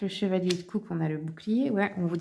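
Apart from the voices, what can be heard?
No everyday noise stands out behind the speech.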